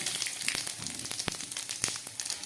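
Crackling sizzle of cumin, nigella and radhuni tempering in hot oil left from frying shrimp, a steady close hiss with scattered sharp pops throughout.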